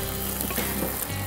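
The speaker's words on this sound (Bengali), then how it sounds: "ডিমটা একটু সাবধানে ভাজতে হবে, অনেক সময় একটু ছিটে আসে।" An egg frying in hot oil in a pan for a Bengali dish, a steady dense sizzle with faint crackles, close and continuous with no talking.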